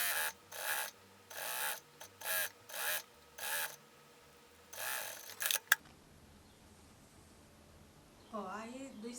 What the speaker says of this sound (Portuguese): a máquina doméstica costura numa boa esse material